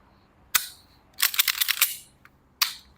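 A Tokyo Marui Hi-Capa 5.1 Gold Match Custom airsoft pistol fires sharp, close, snappy pops: one single shot, a quick string of about six rapid shots, then another single shot, with no talking.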